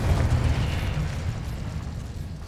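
Fiery spell blasts from Hogwarts Legacy, a loud, dense rumbling burst that starts strong and slowly fades into a sustained roar with no clear gaps.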